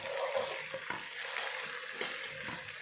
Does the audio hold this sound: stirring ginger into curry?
yes